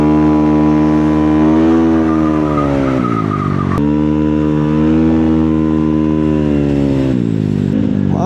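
A custom sniper-build motorcycle engine runs loud and close, its steady harmonic drone rising and falling with a few throttle changes and one sharp click partway through, with no talking.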